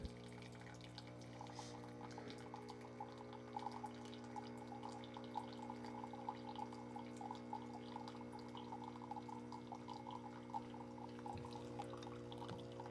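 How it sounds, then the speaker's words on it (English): A Breville Nespresso Essenza Plus dispensing hot water runs as a steady, continuous pour close by, with a constant machine hum beneath the trickle and no speech. "And it's just spewing out hot water right here."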